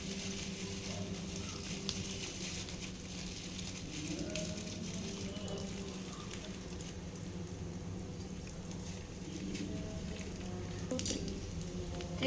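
Beans, carrot and potato cooking in a pan, giving a faint, steady sizzle and soft bubbling close by with no talk over it.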